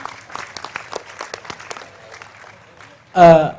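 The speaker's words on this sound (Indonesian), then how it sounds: "Tepuk tangan dulu buat Pak Bupati" An audience bursts into loud, short applause for the regent at a public gathering, following a stretch of someone talking.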